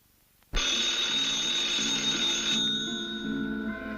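A telephone in a slasher film suddenly starts ringing, a loud continuous electric bell trill that cuts in after a moment of quiet and keeps going steadily without a break.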